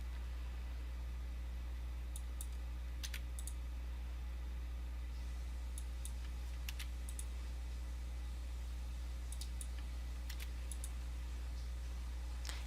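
Computer mouse clicks, faint and close, sounding singly and in quick pairs at irregular intervals over a steady low hum, with no voices.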